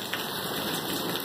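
Heavy rain falls steadily on a farm after a sudden change of weather, a dense, even hiss that is loud and continuous with no voices.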